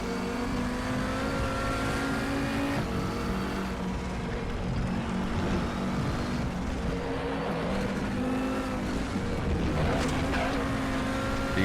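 An Audi TT RS VLN race car in the RaceRoom racing game at the Nordschleife drones steadily at high revs, engine roar and road rumble filling the clip with small shifts in pitch as the car accelerates and brakes.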